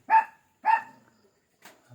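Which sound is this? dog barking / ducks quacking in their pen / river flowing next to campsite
dog barking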